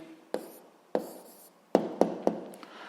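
Pen writing on paper while working a physics exercise: five short, distinct scratching strokes spaced irregularly, close and quiet, with no talking over them.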